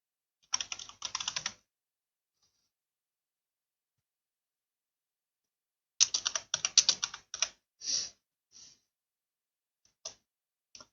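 Bursts of rapid clicking keystrokes on a computer keyboard while coding a C# mod, close and dry, separated by a long silent pause and a few scattered single key presses.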